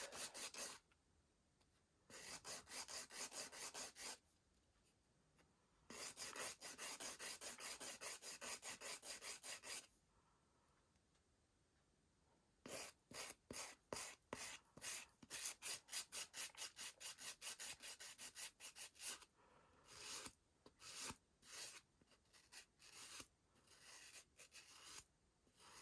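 A nail file rasps close up against an acrylic nail to taper it, in bursts of quick back-and-forth strokes: long sustained runs at first, then rapid choppy strokes separated by short pauses, no voices.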